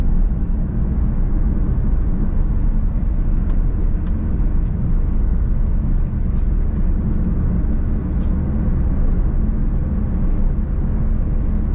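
A manual car cruising on an Indonesian road after an upshift into fifth gear, a steady low engine and road rumble that holds level and close throughout, with faint ticks above it and no talking.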